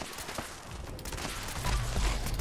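Anti-armor explosive assault rifle fire in Fallout 76, a dense burst of rapid shots with booming low impacts swelling toward the end, loud and close, no voices.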